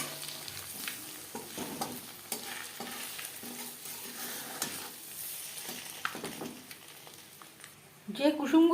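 Eggs for an egg curry frying in a pan, a steady soft sizzle with faint intermittent stirring scrapes, ending in a louder burst of clattering and noise near the end.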